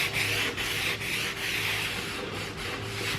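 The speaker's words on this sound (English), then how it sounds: "take my lint-free cloth, just kind of rub it in" A lint-free cloth rubbing gray stain into a wooden farmhouse table, a close, continuous scrubbing swish in rhythmic back-and-forth strokes with brief dips between passes, no voices.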